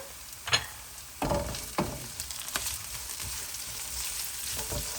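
Curry leaves hitting hot oil with frying onions for a Fiji-style chicken curry: a steady close hiss of sizzling broken by a few sharp crackling bursts and pops, with no voices.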